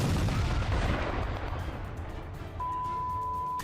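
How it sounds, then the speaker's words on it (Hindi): Drone strike explosion hitting a crowded shopping mall in the Russia-Ukraine war, a loud rumbling blast at the start that decays into a long roaring wash of debris and fire noise, with a steady electronic tone cutting in near the end. "धमाके के साथ मॉल की छत उड़ी और आग के शोले उठने लगे।"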